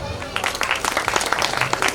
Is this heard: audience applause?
yes